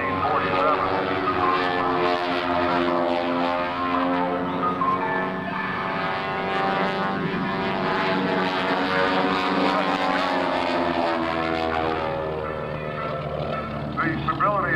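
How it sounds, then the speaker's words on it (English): A C-45F twin-engine propeller airplane roars through aerobatic maneuvers at an airshow, its engine drone loud and continuous with shifting pitch, while an announcer talks over it. "he's actually putting it through maneuvers that would normally be flown only by a single-engine airplane"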